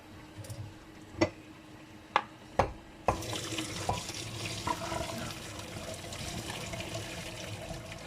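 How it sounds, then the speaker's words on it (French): Boiled potatoes are drained, with a few sharp knocks of a pot at first, then water pours steadily into a sink, close and moderately loud, with no talk. "Et on les égoutte les pommes de terre."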